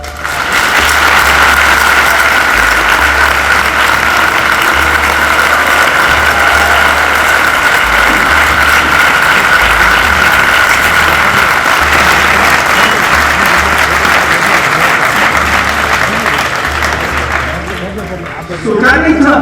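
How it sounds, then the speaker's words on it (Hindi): An audience at a Jain religious gathering in Ajmer applauds in a courtyard. The clapping is loud and dense, a sustained roar lasting nearly twenty seconds before it starts to thin out at the end. "मुनिवर के बोलते ही पूरा प्रांगण तालियों से गूंज उठा।"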